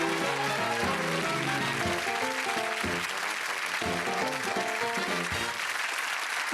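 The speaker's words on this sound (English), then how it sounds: "Give them a round of applause." Studio audience applause on the Bullseye game show, a dense, steady wash of clapping that runs for the whole stretch at an even level, with the show's music playing loudly over it.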